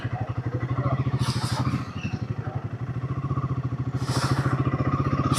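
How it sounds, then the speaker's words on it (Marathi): A motorcycle putters along a small village road, its engine throbbing in a fast, even pulse close by, with two short bursts of wind or rustle over it. "पार्किंग मध्ये आपली बाइक पार्क करूया."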